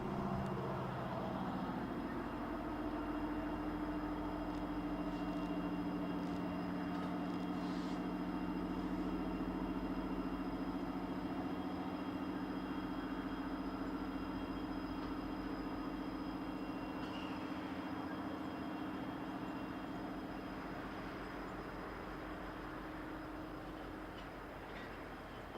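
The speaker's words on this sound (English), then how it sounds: "Arriving into the south end of the yard is a manifest led by a pair of SD-70 Maces." Low, steady diesel rumble with a sustained engine drone as a manifest freight train led by two SD70MAC locomotives rolls into a yard, fading slightly toward the end.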